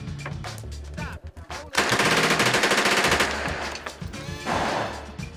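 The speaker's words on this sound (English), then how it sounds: "So what kind of gun is this? Tommy gun." Tommy gun firing at a gun range, a rapid loud burst of automatic fire lasting over a second after a few quieter handling noises.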